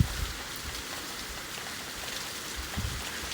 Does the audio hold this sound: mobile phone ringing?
no